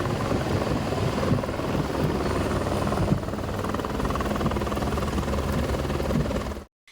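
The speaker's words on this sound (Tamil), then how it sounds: "டெக்சாஸின் கர்வெல்லியில் வெள்ளம் சூழ்ந்த பகுதியில் ஹெலிகாப்டர் மூலம் மீட்பு நடவடிக்கைகள் மேற்கொள்ளப்பட்டன." A helicopter flies over flooded areas of Kerrville, Texas, during rescue operations, its loud steady rotor thrum and engine whine continuing without a break before cutting off abruptly.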